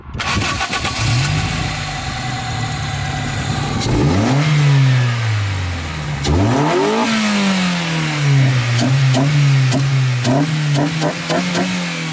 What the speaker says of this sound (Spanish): el sonido con esta nueva admisión artesanal.